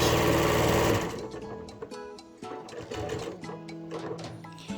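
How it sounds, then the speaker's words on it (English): A sewing machine stitches a fabric pouch, running fast at first and then slowing into a steady mechanical chatter with brief pauses, as when back-stitching, close and clear. "Do not sew that, just 3 sides. So back stitch."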